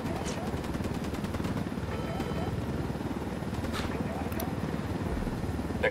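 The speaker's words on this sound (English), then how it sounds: "I'll just destroy the chopper." A helicopter in a combat roleplay video game drones steadily with a thick rotor rumble throughout, with faint sharp cracks like distant gunfire scattered over it.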